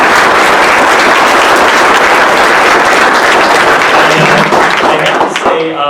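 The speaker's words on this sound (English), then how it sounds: "Let's give him a round of applause" A crowd in a Hall of Justice courtroom gives a loud, sustained round of applause at a swearing-in ceremony, dense and continuous before tapering off at the very end.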